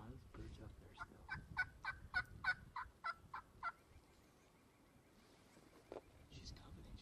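Wild turkeys gobbling during a spring bowhunt, a run of about eight sharp, rhythmic gobble bursts at mid distance, followed by a quieter stretch with one more faint call and some soft whispering nearby.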